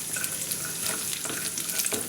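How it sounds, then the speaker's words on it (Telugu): Cashews and raisins frying in melted ghee for semiya payasam, a bright crackling sizzle with light stirring scrapes, steady and close throughout, without any speech. "నెయ్యి కరిగిన తర్వాత ఇందులోకి జీడిపప్పు, కిస్మిస్ వేయించుకోవాలి."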